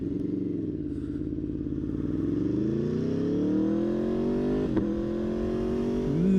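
A 2018 Aprilia Tuono V4 motorcycle engine pulls steadily under load, rising in pitch through the rev range, with a brief quick-shifter gear change near the end before the note drops and climbs again; loud and continuous, no talking.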